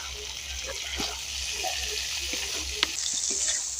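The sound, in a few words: okra and spices frying in oil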